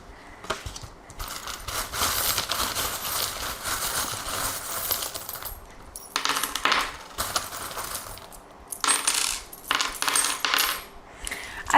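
Small charms tossed and shuffled for a divination reading, a busy stream of light metallic clinks and rattles that comes in bursts with brief pauses, close and fairly loud with no talking.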